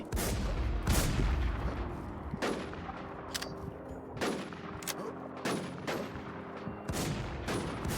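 Sharp, booming shots from the Warzone II video game ring out one after another at irregular intervals, each with a short echoing tail, over a quieter rumbling background.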